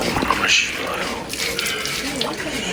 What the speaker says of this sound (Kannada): ನೋಡಿ ಅಲ್ಲಿ ನೀರು ಬರ್ತದೆ.